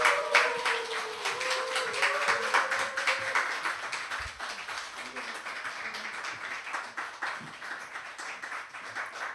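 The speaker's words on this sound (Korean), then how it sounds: "우리 선교사님 나오실 때 격하게 박수로 환호로 환영하면서 모시겠습니다" A church congregation claps and cheers to welcome a missionary to the front, a dense, steady patter of many hands that stays fairly loud throughout and tapers slightly toward the end, with no voices standing out.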